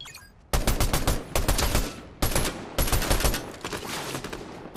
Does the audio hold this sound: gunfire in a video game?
yes